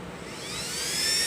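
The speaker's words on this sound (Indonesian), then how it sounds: "Kipas angin SunS kita coba dulu bro ya, untuk mode flat ya, mode flat dengan kipas angin super." An electric fan running at its high speed setting gives a steady, loud whooshing rush of moving air that builds slightly over a brief moment, with no voices present.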